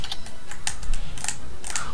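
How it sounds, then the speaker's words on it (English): Rapid clicking of keys on a computer keyboard, several quick bursts of taps over a steady low background hum, close and fairly loud, with no talking. "Oh, I got hit, all because you typed."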